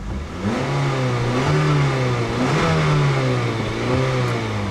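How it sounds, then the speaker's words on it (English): A 2015 Acura TLX 2.4-litre four-cylinder engine starts by push button and settles into a steady hum, then revs up and down a couple of times, loud and close. "Put your foot on the brake and push the button to start the engine."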